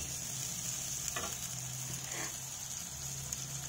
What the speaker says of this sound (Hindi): ये मैगी बन रही है